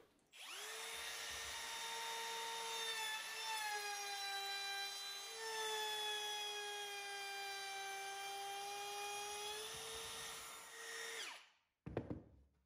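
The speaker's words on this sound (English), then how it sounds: "I've adjusted the height of the router bit, and now I'll run it down the length of the board" A router fitted with a bead bit cutting a moulding profile along a wooden board, a loud steady high-pitched motor whine with a tonal cutting drone that winds down, followed by a brief clatter.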